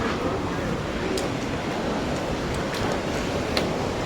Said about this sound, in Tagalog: Kusog kayong hangin.